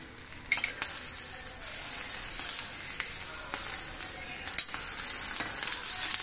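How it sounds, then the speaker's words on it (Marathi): Black pomfret fish frying in coconut oil in a pan, a bright, dense sizzle with occasional crackling pops and utensil taps, close and steady throughout. "फ्राय रेडी जाला तिखट जालें रे आनी जस्ट वयल्यान खोबरेल तेल घातलें रे"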